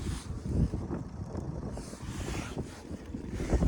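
Gusty wind buffeting the microphone in a plowed field at -5°C, low rumbling bursts rising and falling, with a faint watery wash behind it.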